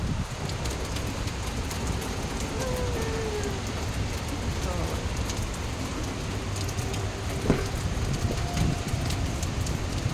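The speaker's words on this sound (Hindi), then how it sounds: "बहुत तेज़ बारिश हो रही है बाहर।" Dense, steady hiss of heavy rain falling outdoors, a constant wash with faint scattered drips and some low rumble, running unbroken throughout.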